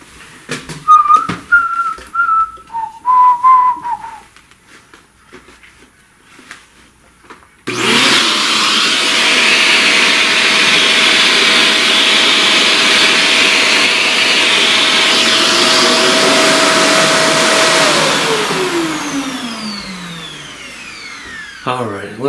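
Vacuum cleaner sucking up pastel dust, switched on with a rising whine and then a loud, steady roar that winds down at the end; a brief whistle and a few voice sounds come first.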